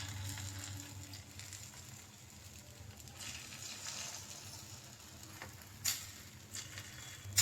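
Egg-coated bread frying in oil in a pan for a street-style bread omelette. A faint, steady sizzle is heard up close, with a couple of sharper crackles near the end.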